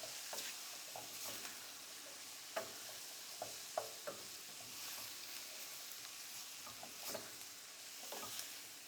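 Flour stirred into melted butter in a pan, a quiet low sizzle under scattered scraping taps of a utensil, soft and close with no voices.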